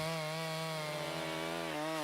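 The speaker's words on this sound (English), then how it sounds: "An 18-inch chainsaw running at 3 horsepower will easily cut all the timber you want" A gasoline two-stroke 18-inch chainsaw of about 3 horsepower runs steadily at high revs, a loud, buzzing, harmonic engine drone that dips briefly in pitch near the end, alone with no talk.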